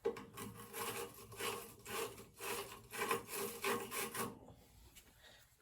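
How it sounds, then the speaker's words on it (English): A wire brush scrubs back and forth inside a copper pipe in quick, close, rasping strokes for several seconds before stopping, with no talking. "this brush will go inside to brush the inside"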